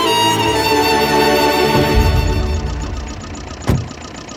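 A vehicle engine turns over and settles into a steady idle, a loud continuous rumble with a brief sharp knock near the end, no talking over it.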